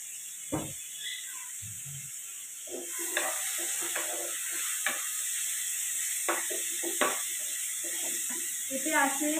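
Onion and cashew sautéing in ghee for a chicken malai curry gravy, a steady sizzle under intermittent stirring scrapes and clatters, with a person talking over the cooking.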